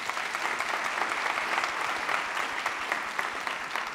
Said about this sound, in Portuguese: eu queria aplauso para isso